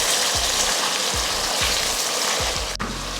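Masala-marinated chicken frying with onions in a pan, a steady loud sizzle with a few soft periodic scraping stirs and a brief clatter near the end.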